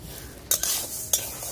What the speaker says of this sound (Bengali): ডালটা আমি সুন্দর করে ভাজা নিই।